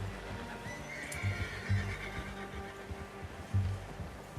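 A horse in the Red Dead Redemption 2 video game whinnies faintly amid soft hoof clip-clops and low background ambience, with no talking.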